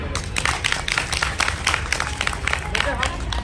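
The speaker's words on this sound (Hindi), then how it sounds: "जोरदार ताली बजाकर स्वागत करेंगे।" An indoor crowd at a women workers' awareness gathering in Udaipur gives a labour leader a welcome with sustained, thick applause: many hands clapping steadily and fairly close, with a faint murmur of voices underneath.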